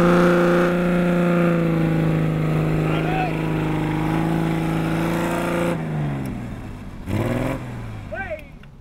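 4x4 engine revving hard, a loud sustained droning tone with clear steady harmonics for several seconds, then easing off and rising again in shorter bursts toward the end.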